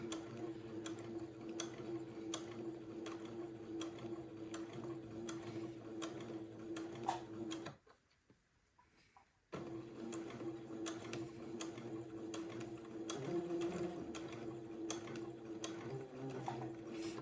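A sewing machine stitches a bonnet seam for an old-fashioned baby layette, running in a steady rapid mechanical ticking that halts for about two seconds midway, then resumes at the same even pace.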